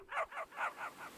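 A cartoonish dog barking in a comedy-horror visual novel video game, five short rhythmic barks in quick succession, close and clear, the last ones slightly softer.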